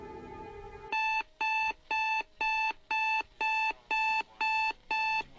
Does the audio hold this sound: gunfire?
no